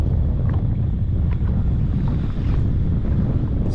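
Strong wind roars steadily across open water on a small fishing boat in the Moreton Bay shallows, a constant loud buffeting rush with wind hitting the microphone throughout.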